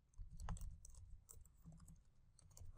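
Commands typed on a computer keyboard during Java Selenium setup, a brisk run of soft key clicks over a low background hum, fairly faint and steady with no talk.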